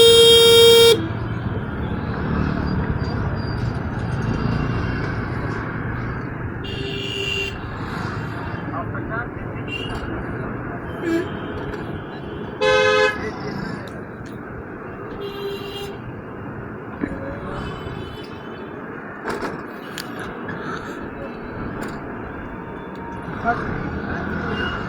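Car horns honk in short bursts through a traffic jam on narrow lanes, sounding over a steady roar of engines and street noise, with voices talking throughout.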